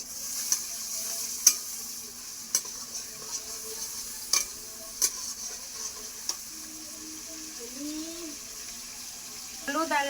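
Washed prawns go into a pan of frying onions, bringing a burst of sizzling with sharp utensil clicks and stirring scrapes at intervals, fairly close, and a brief rising squeal near the end.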